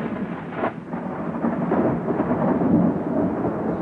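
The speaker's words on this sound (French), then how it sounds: "Et quand la nuit tomba, la tempête se leva." A loud rumble of thunder rolls in and builds over a steady wash of heavy rain, deep and sustained.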